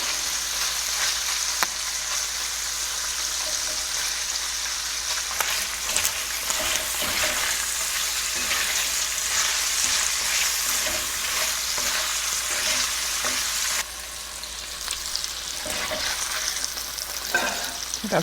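One pound of sliced Hillshire Farm Cajun andouille sausage frying in a skillet, a steady close sizzle with occasional scrapes and stirring clinks throughout.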